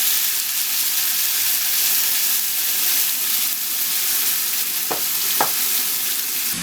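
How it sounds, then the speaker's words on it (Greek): Cornmeal flour fries in a pan, giving a steady, close sizzle and hiss throughout, with a couple of brief clinks near the end. "Θα αφήσουμε να κάνει λίγη κρούστα το καλαμποκίσιο το αλεύρι."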